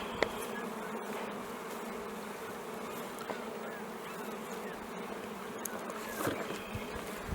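Dense, steady buzzing of many honey bees at an open single-box beehive, a continuous close hum filling the scene with no talking.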